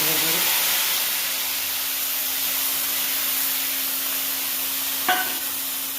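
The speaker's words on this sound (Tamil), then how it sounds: "ஒரு கப்பு நல்லா கட்டியாக கரைச்ச புளி கரைசல் இதை நான் இதில் இப்படியே ஊற்றி" Thick tamarind extract pours into a hot pan with a loud sizzling hiss that settles into a steady bubbling sizzle, with a brief clink near the end.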